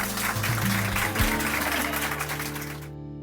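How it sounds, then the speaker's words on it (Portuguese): Dense, steady applause for a speaker at a Black literature event, a continuous wash of many hands clapping over a low tonal hum, cutting off abruptly near the end. "Uma salva de palmas para ela."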